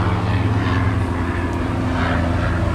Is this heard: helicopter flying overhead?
yes